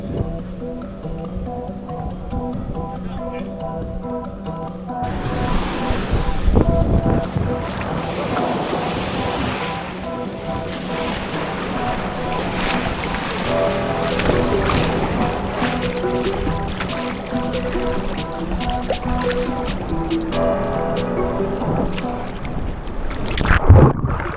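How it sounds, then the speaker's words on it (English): Strong sea waves surge and break on the beach at La Barceloneta in Barcelona, a steady loud wash of surf with wind buffeting the microphone, swelling at times and continuous throughout with no talking. "The waves are quite strong."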